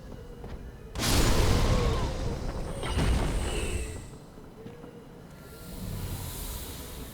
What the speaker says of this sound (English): There was an explosion just now.